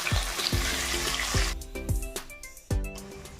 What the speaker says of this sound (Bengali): কড়াইতে একটু সাদা তেল দিয়ে লবণ হলুদ দিয়ে আমি পনিরগুলোকে একটু ভেজে নিয়েছি